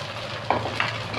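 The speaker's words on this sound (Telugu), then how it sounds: "పిండి ఇట్లా కలుపుకోవాలన్నమాట." Thick urad dal batter for onion minapa dosa being mixed by hand in a bowl, a soft wet stirring sound with two brief squelching strokes over a steady background hiss, close and moderately loud.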